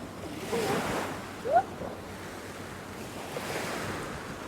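Waves roll in and crash on rocks in soft, broad surges, with a hissing wash of water and some wind noise between them, on a coastal trail in Busan.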